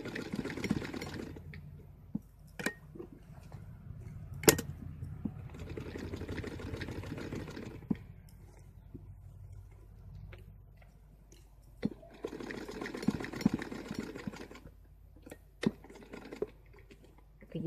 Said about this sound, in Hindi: जो सेंटर है इस प्रकार से पूरी फुल राउंडिंग इसकी स्टिचिंग करेंगे हम